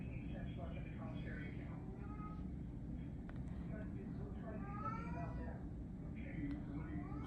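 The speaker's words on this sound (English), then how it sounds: "I got the kitties talking up a storm tonight" Several house cats meow repeatedly, their rising, drawn-out calls coming in bursts over a steady low background hum, fairly close by and insistent throughout.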